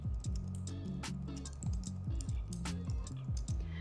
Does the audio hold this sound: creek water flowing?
no